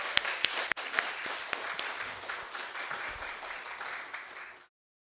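Applause from a church congregation for the choir after a Christmas Day cantata service, steady clapping with a few sharper claps standing out, running for several seconds before cutting off abruptly.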